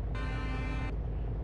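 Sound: deep bus horn in Fernbus Simulator video game

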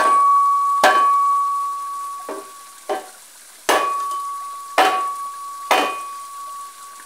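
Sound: hammering a wedge into a hoe handle

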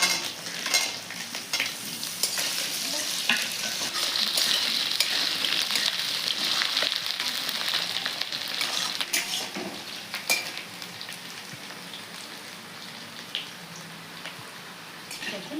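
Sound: garlic and potatoes frying in oil

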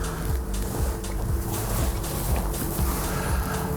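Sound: car engine starting

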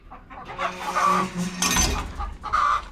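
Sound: chickens clucking

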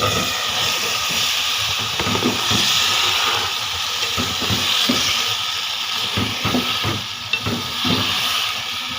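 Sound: radish added to frying spice mixture in pan

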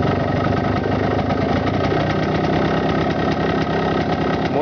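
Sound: warm engine idling, carburettor idle raised by hand

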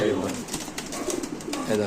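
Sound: Indian Kaldom pigeons cooing

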